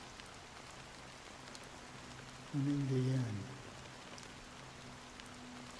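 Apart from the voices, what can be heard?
rain in a video game (Honkai: Star Rail, Penacony)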